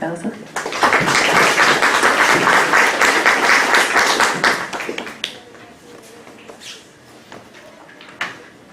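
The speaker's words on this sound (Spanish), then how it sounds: "Bienvenida para él, por favor, un grandes aplausos" An audience at a pharmacy course in Spain's Ica region breaks into loud clapping after a speaker is introduced, dense applause for about four seconds that thins out into scattered claps.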